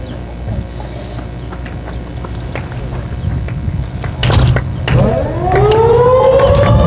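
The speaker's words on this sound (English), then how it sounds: "we probably have these tornado siren tests going off now" Tornado siren test at a baseball game, a wailing tone that rises and sweeps in the final two seconds over crowd and ballpark background.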